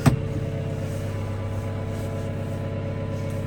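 A John Deere 6115M tractor engine idles with a smooth, steady low diesel rumble close by, after a brief louder knock at the start, with no talk.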